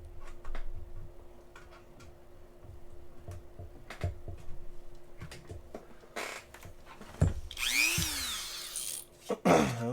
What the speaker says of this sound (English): get my Dremel tool out here. With a cutting wheel on it, and we'll make quick work of this